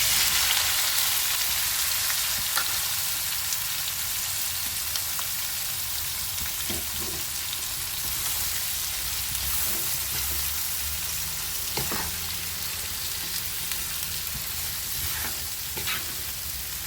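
Chopped onions frying in oil with whole garam masala spices for a Bihari-style chicken curry, a steady dense sizzle with occasional spatula scrapes and clicks, close and continuous throughout.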